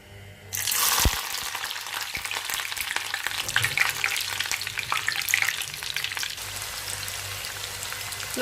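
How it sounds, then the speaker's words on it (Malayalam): Roasted gram (pottu kadala) frying in hot oil in a pan, a loud, steady crackling sizzle that starts abruptly and continues with occasional stirring, with no talk. "ഇതിലേക്ക് നമ്മുടെ പൊട്ടുകടല ഇട്ട് നമുക്ക് വറുത്ത് കോരണം"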